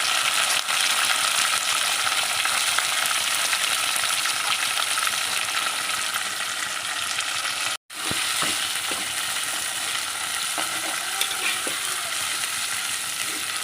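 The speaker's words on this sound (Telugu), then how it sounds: "ఇలా బాగా వేగనివ్వాలి మెత్తంగా అయ్యేంత వరకు వేగనివ్వాలి" Onions and tomatoes frying with curry leaves in a pan for a dried fish and okra stew, a loud dense continuous sizzle, close up, cut by one brief silent gap partway through, with no talking.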